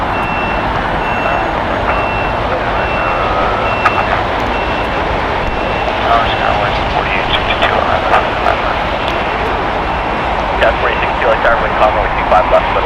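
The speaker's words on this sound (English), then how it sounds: "Boeing 787-8 Dreamliner will be taxiing this way to the south side" Boeing 787-8 Dreamliner jet taxiing at LAX, a broad steady whine and rumble of jet engines with a faint reversing beep, under a voice.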